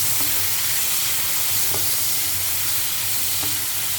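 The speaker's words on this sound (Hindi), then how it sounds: "थोड़ा सा ऑयल डाला है और सिर्फ 30 सेकंड के लिए या 1 मिनट मैक्सिमम झींगे पकाएंगे" Shrimp fry in a little oil in a pan, a loud, steady, hissing sizzle that continues without a break, heard close with faint occasional clinks beneath it.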